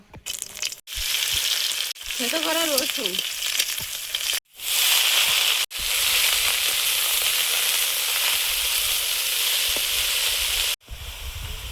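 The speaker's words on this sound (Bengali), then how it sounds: "লাউ শাকটা ভেজে নেব" Bottle gourd greens fry in a pan with a steady, close, broadband sizzle that runs nearly the whole time, broken by a few brief gaps. A voice speaks briefly early on.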